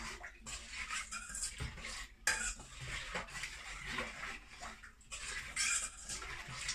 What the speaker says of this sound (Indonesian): Tapi coba kita aduk dulu ya.